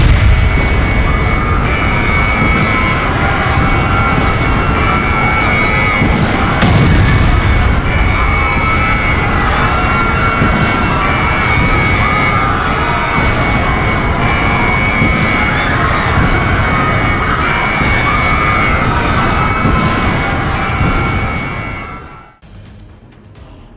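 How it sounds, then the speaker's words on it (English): Missile strikes and explosions in a Hearts of Iron IV war between China and Taiwan, a loud, continuous roar of blasts and jet-like rumble that holds steady for most of the stretch, then fades out abruptly. "China launched thousands of missiles into Taiwanese infrastructure, military bases, and cities"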